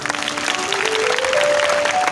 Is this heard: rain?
no